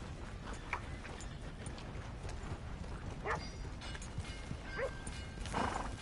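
In Red Dead Redemption 2, horse hooves clip-clop softly at a distance with a brief whinny and some faint mechanical clatter and dog barks in the background, quiet and sparse.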